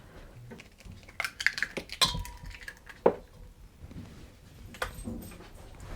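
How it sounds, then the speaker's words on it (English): Eggs crack against a bowl in a home kitchen while making a cherry coffee cake, with a few sharp taps and clinks of shell and dishware spread over quiet moments. "we need 2 eggs. I like to crack it in a separate bowl just in case"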